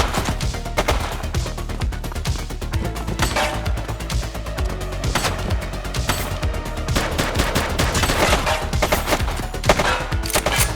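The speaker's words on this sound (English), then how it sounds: "Shots fired!" Dense, continuous gunfire from The Precinct video game, rapid automatic bursts and crashing shots layered over a loud, busy game mix with no pauses throughout.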